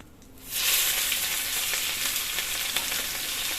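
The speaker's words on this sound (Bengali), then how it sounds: "কুচনো পেঁয়াজগুলো এবার দিয়ে দেবো।" Chopped onions drop into hot oil with cumin seeds and cinnamon, breaking into a loud, steady sizzle that starts abruptly and keeps frying close by with faint stirring.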